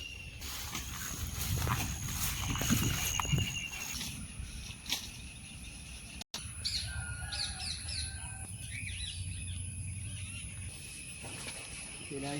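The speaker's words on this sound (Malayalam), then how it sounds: "പക്ഷിയുണ്ടല്ലേ" Birds chirp and call near open farm fields planted with sugarcane, short bright tweets coming and going over a faint outdoor background, with no speech.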